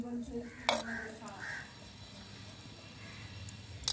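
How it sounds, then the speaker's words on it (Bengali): Potatoes fry with a steady sizzle in a pan over a lit stove, stirred with a few clinking scrapes of a utensil against the pan, close and continuous. "এখানে আমাদের ডেলিশিয়াস আলু ভাজা হচ্ছে"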